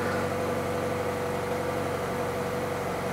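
A Mazda 3 engine idling with a steady, even hum and low vibration, continuous and close, with no voices.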